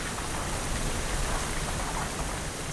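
Steady, dense rainfall hissing continuously across surfaces, loud and close, with no voices.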